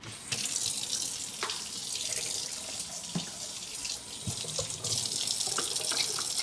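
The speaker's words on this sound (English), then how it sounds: "I'm gonna wash my hands." A kitchen tap runs steadily into a sink while hands are washed, the water stream constant with brief splashes and shifts in flow as the hands move under it.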